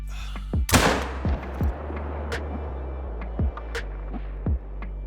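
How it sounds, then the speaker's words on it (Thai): A powerful single-shot gun fires at a Lestia creature in the game Loadout, one sharp blast early on with a long rumbling tail, followed by several smaller thuds and impacts at a distance. "ผมจะลองเอาปืนนี้ยิงเลตเตียอยู่นะครับ"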